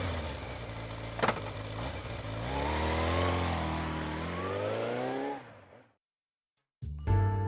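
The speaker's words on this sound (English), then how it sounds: "I grab my motorcycle at my apartment and zip off to Shinza Station." A motorcycle rides off in the video game Spirit Hunter: NG, its engine revving up and holding a smooth, rising drone for several seconds before cutting to silence, then a brief new sound.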